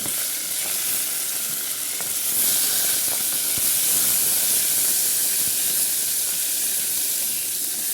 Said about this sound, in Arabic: بشوح اللحمه اهي مع البصله ومع الثوم